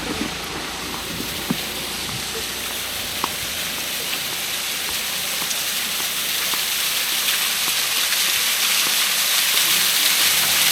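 Cold water pouring steadily down like a natural shower in the Norwegian mountains, a dense continuous hiss that grows slightly louder toward the end, with no talk over it.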